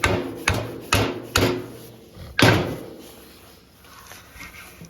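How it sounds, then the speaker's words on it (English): Snap-on hammer striking a vehicle control arm bushing in a repair shop: four sharp metallic blows in quick succession, then a pause and a fifth strike, each ringing briefly before fading. "oh, snap-on hammer."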